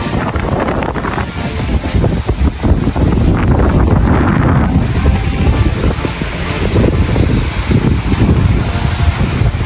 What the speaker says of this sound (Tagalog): Ang lasang hangin, parang may bagyo.